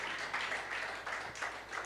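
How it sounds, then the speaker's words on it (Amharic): A church congregation claps in praise to the Lord, with steady dense applause filling the room at moderate loudness and no voices standing out. "አጨብጭቡ ለጌታ"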